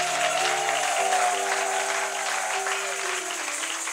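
A church congregation claps together in a sustained burst of applause, steady and fairly loud, with held music tones underneath.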